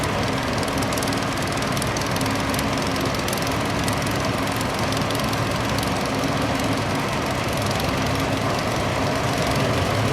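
A restored Nuffield tractor, among the last built under that name, runs its engine at a steady, continuous rumble, loud and unbroken, with no talk over it.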